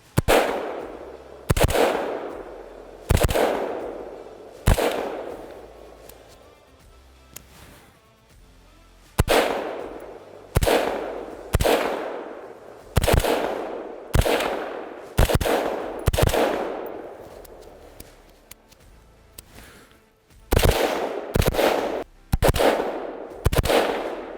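A Faxon Sentry defensive rifle fired outdoors, with loud single gunshots spaced irregularly at roughly one to two second intervals, each followed by a decaying echo, about fifteen shots in all with no speech.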